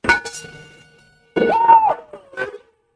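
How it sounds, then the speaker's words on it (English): A bell rung at a sports gym event, giving two close, bright metallic clangs with ringing tones that decay over a quiet gap, followed by a shorter softer strike. "Look, another player's rung the bell."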